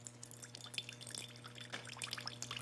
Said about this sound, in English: To my bowl, I'm going to add a couple more tablespoons of the rice vinegar and a couple more tablespoons of soy sauce.